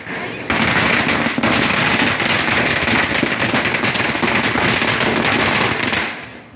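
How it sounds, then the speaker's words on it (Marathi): Firecrackers set off in a neighbourhood street celebration, a rapid, continuous crackling barrage of loud pops lasting around six seconds before quickly fading out. "हे फटाके वगैरे उडवताना दिसत आहेत"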